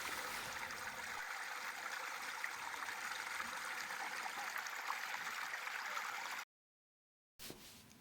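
Steady trickling of a small stream, a continuous bright babbling that runs without pause, then cuts to silence briefly near the end.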